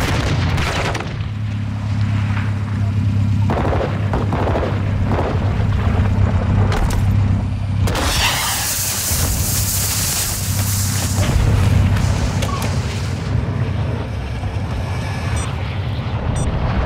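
Call of Duty Modern Warfare combat with dense gunfire and heavy booms layered over a low droning rumble, with bursts of shots and blasts throughout and a big explosive surge midway.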